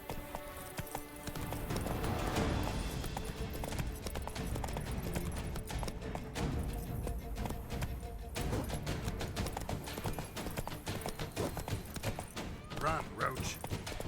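Hooves of the horse Roach clatter in a fast, rapid rhythm as it gallops in The Witcher 3, a dense and continuous clip-clop with a voice speaking over it.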